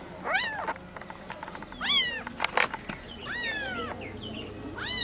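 A cat meows three times at intervals, rising and falling in pitch, with small taps and rustles between the calls, moderately close.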